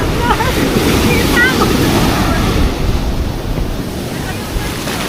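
Big ocean waves crashing and washing onto a shore, a loud broad roar with heavy wind buffeting the microphone and brief chirpy sounds early on, easing slightly toward the end.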